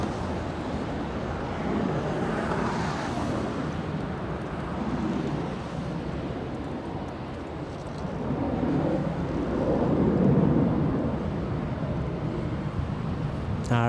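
A Boeing 747 airliner takes off at LAX, its heavy jet roar a broad, rumbling wash heard from a distance, swelling and easing with wind buffeting the microphone throughout.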